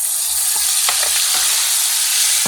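Vegetables (green beans and artichoke) being stirred in a sizzling paella pan, a constant loud frying hiss broken by several quick scraping stirs, close and with no talking.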